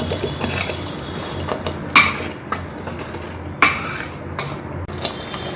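Pav bhaji being stirred in a pot, the spoon giving two sharp metallic clanks against the rim over a steady low kitchen hum, with a few lighter scrapes between.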